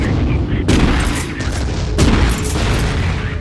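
Two sharp grenade blasts from the Vivisector video game boom out about a second apart amid rumbling game noise, with a voice talking faintly underneath.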